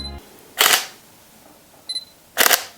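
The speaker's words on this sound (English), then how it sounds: "This is a photo taken at 1/2000th of a second." Two sharp, fast camera shutter clicks at 1/2000 second sound close up, spaced apart, with a faint electronic beep between them.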